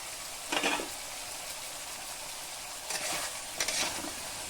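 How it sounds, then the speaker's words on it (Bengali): Drumsticks (moringa pods) and potato pieces are dropped into hot oil with spice paste in a pan, each addition setting off a sharp burst of sizzling over a quieter, continuous fry. "এখন আমি অ্যাড করে দেব প্রথমে ধুয়ে কেটে রাখা সজনে ডাটাগুলি আর তার সাথেই আমি আলুও অ্যাড করে দেবো"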